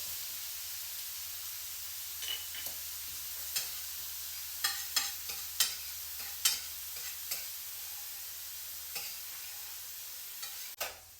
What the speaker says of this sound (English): we're gonna flip this, baste it real quick, and then immediately pull it off